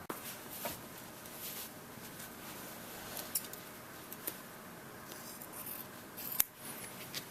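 Scissors cutting along a traced outline for a Plano pillared single scoped gun case, a soft continuous snipping and rubbing with a few sharper clicks, close but quiet, no talking.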